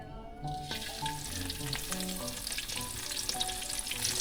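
Tuyo, Filipino dried fish, fries in a pan with steady close sizzling and popping oil, plus occasional stirring clinks and a faint background tone, with no talking.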